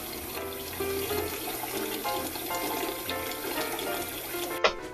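Tap water pours steadily into a pot being filled for boiling potatoes, a continuous rushing splash that holds even throughout, ending with a short clunk near the close.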